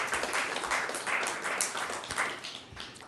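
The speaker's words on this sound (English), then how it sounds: "Yeah, you can clap." Scattered audience clapping at a city council meeting livestream, uneven bursts of hand claps from a modest crowd that rise and fall over a few seconds.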